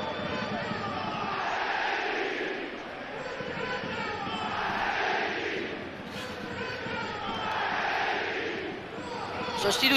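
Stadium crowd at a Foggia football match, broad sustained roar with swelling waves of applause and cheering as a player is substituted off, dense and continuous throughout.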